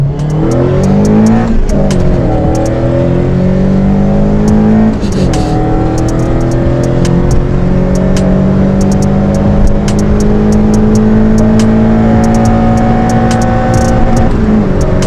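A Rover 114 GTI with a K-series engine revs hard in VTEC mode and climbs through high RPM, whining loudly with a sustained rising pitch, heard close up from inside the vehicle.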